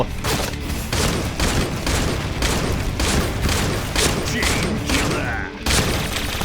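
Shotgun fire from the online shooter Point Blank comes as dense, loud bursts of gunshots one after another, with players talking over the shooting throughout.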